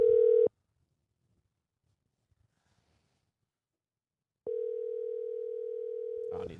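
A telephone ringback tone sounds briefly, falls silent for several seconds, then sounds again in a long steady tone before a faint voice begins.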